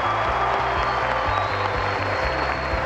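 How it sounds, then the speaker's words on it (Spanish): Applause from a talent-show audience for an acrobatic duo rolls on steadily under a low, rhythmic musical pulse, filling the hall for a few seconds. "se merece un gran aplauso"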